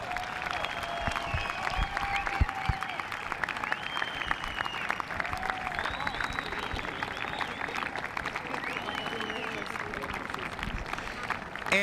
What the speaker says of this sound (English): get one big round of applause for Tom Dill